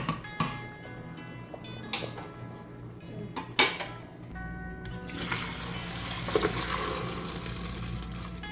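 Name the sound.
straining half-cooked rice for zarda in a pot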